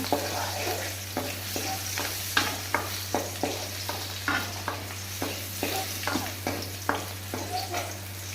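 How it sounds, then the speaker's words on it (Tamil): Garlic sautéing in a pan for a gongura pickle, a soft continuous sizzle broken by regular scraping stirs of a spoon, about two strokes a second, with a low steady hum underneath. "பூண்டு நல்லா கலர் மாதிரி இருக்கும், வதக்குங்க"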